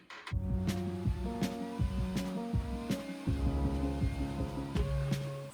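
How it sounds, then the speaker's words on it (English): Electric chopper machine finely chopping seven onions, a steady loud motor hum and throb with rhythmic pulses roughly every second as the blades work, continuous and close with no talking. "So I have to finely chop these onions, which I'm going to do in this machine."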